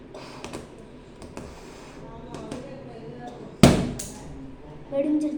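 A balloon bursting with a single sharp, loud pop partway through, close by, after scattered light rubbing and tapping sounds, with a voice speaking briefly afterward.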